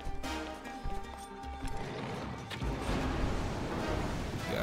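Hoofbeats of a horse in Tears of the Kingdom clatter in uneven bursts over a busy game soundscape, growing denser and louder toward the end with a possible whinny.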